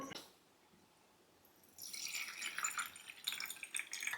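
Cold water pours into a cold brew coffee maker holding ground coffee in a filter, a quiet trickling that starts after a brief hush and goes on with soft splashes and drips.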